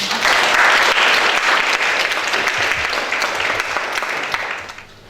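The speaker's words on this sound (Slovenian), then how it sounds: "vas pa prosim za en topel aplavz" Warm audience applause at a talk on low-carbohydrate nutrition, loud steady clapping from a crowd that fades out toward the end.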